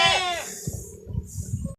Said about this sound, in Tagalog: kung kakain kaya yung mga kambing natin sa binibigay ko